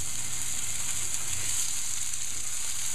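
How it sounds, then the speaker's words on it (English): Steak sizzles steadily in a hot pan, a constant crackling hiss with no talking. "It's got a nice sizzle going on."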